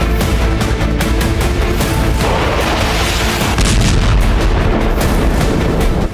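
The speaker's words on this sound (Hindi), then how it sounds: "धमाके सीरिया के अलेप्पो में हुए" Dense, continuous rumbling blasts and booms in Aleppo, Syria, during war, loud and close, with repeated heavy explosions and crackling bursts layered throughout.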